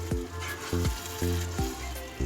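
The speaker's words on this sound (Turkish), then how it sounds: "şimdi sıcak suyumdan ilave ediyorum biraz" Hot water poured onto half-cooked stuffed pepper filling in a hot pan, giving several short sizzling bursts spaced about half a second apart, close and fairly loud with no talking.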